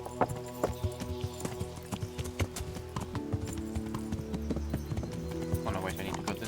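Steady hoof clip-clops from a horse moving at a walk in Kingdom Come: Deliverance, evenly spaced, over a busy background of game music and ambience.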